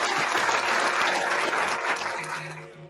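A round of applause from a small group, dense steady clapping that swells and then tapers off, close and loud with no talk over it.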